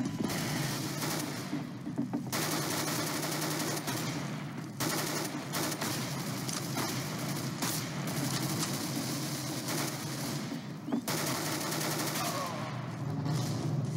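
Rapid automatic gunfire from the game CS:GO, dense bursts of shooting running almost continuously and loudly throughout, with short gaps between volleys.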